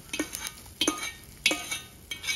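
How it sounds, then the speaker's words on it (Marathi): A spoon stirs hot tempering into a bottle gourd batter, giving a series of distinct clinks and scrapes against the vessel at a steady rhythm, close and moderately loud, with no talking. "ती आपल्या ह्या पिठात घालून घ्यायची।"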